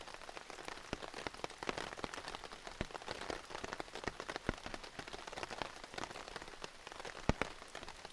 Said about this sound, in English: we've been rained on for a while now, probably a good half hour